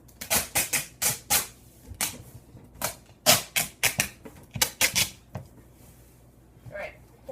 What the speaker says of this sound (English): Taping the box.